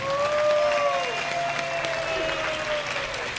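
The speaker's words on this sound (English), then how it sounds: "Let's give another applause to our singing group." Crowd applause at an outdoor Amah Mutsun rally for Juristac in San Jose, greeting a singing group; steady, dense clapping fills the scene with a faint tonal whistle-like sound drifting above.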